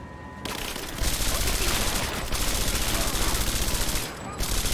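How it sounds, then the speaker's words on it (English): Dense, sustained gunfire during a battle roars almost without pause, a heavy barrage of overlapping shots close by that dips only briefly. "Keep firing!"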